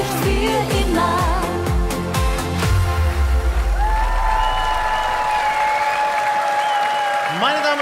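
Steady applause from a studio audience on a Sunday TV music show after the singers finish a schlager song, dense clapping that runs the whole time while the last sung notes fade out underneath.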